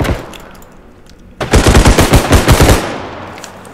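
Automatic gunfire from hip-fired weapons in the realistic bodycam shooter game Bodycam, a loud rapid burst of about a dozen shots lasting just over a second after a quieter ambient stretch.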